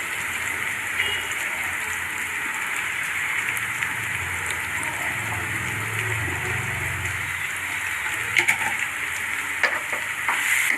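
Coriander and cumin powder masala fries in a pan for an Andhra-style fish curry, giving off a continuous, even hiss like light rain, moderately loud and close, with a few faint clicks and no talking.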